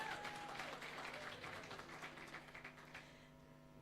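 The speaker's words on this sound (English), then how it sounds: "Can we give him a round of applause?" A brief round of applause for the winner of a fish farmer competition, a burst of clapping that stays fairly close and fades slightly toward the end.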